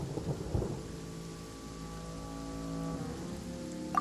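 A stormy ambience from the video game Genshin Impact: steady rain patters under a low rolling rumble of thunder, with faint sustained musical tones drifting beneath and no voices.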